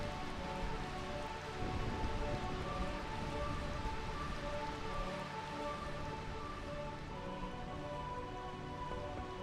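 Steady rain falls in Final Fantasy IX, a constant dense hiss continuing throughout with faint background music.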